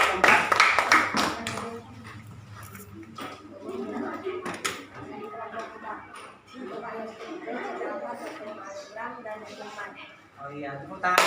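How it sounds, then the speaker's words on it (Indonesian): Students in a classroom clap briefly in a quick burst at the start, then voices chatter and talk, with a few scattered claps and taps returning near the end. "Oh iya, tepuk tangan."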